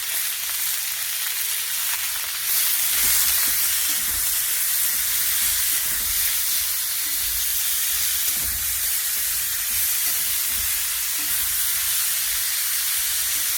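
Food frying with salt and turmeric in a pan, a loud steady hiss of sizzling oil that swells a little after the first few seconds and carries on evenly.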